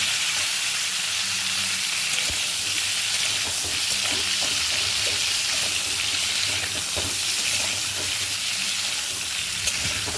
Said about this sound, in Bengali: ফুলকপিটা আমি একটু ঢেকে ঢেকে ভাজছি